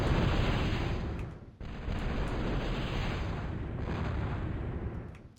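Dominator missiles firing in a strategy video game match on the map The Pass, a dense continuous roar of launches and explosions that nearly fills the clip, with one brief dip and no talk.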